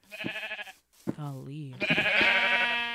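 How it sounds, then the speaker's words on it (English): Sheep in the video game Minecraft bleating, a couple of wavering baas between bursts of a person talking, close and fairly loud. "Why the hell are there so many sheep over here?"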